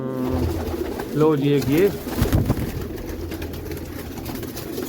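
Pigeons coo close by in a loft while someone talks over them, the throaty calls rising in a short burst midway.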